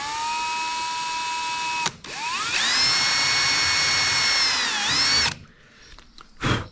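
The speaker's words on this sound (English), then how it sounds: "So I'm just going to drill this out very gently and try to support the tape." A power drill whines at high speed, stops briefly, then spins up again with a rising pitch as it bites through an old aluminium boat hull, followed by quieter handling noises.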